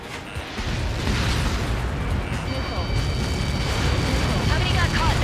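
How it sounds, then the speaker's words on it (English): A projectile impact explosion in Ace Combat 7 rolls out as a long, heavy rumble that swells and stays loud, with a high tonal whine cutting in partway through. "How many got caught in that explosion?"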